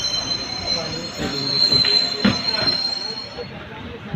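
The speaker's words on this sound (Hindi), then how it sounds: "और अब अपनी ट्रेन सांबर लेक स्टेशन से रवाना हो गई है।" Jaipur Express special train pulling out of Sambhar Lake station in Rajasthan, wheels squealing loudly on the rails over a steady rumble of moving carriages, with repeated harsh screeches from close by.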